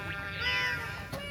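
A cat meowing near shrine steps with torii gates in Japan, one drawn-out clear meow close by, rising and falling, heard alone over faint background ambience.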